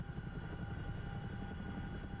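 CH-47 Chinook helicopter in the DCS flight simulator, a steady droning rotor and engine roar that holds loud and even throughout with no talk.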